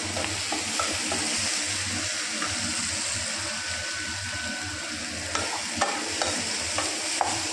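Onions and crushed garlic frying in a pan for chili paste, a steady sizzle under repeated scraping and stirring strokes, with a few sharper clinks of the utensil against the pan near the end.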